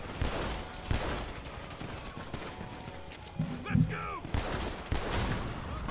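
Gunfire in GTA Online, a burst of shots mixed with game effects and overlapping player chatter, with a louder cluster of hits near the middle of the clip.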